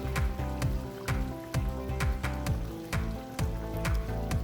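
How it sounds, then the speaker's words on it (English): Salmon pieces shallow frying in a pan, a steady close sizzle broken by a regular series of sharp clicks and ticks, with no talk. "On the other side, I am shallow frying some salmon fish"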